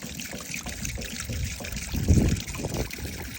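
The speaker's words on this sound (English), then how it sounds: "Then I add a little vinegar." Vinegar being poured into an ultrasonic cleaner: a trickling, dribbling stream of liquid that swells into a fuller splash midway before settling back to a light pour.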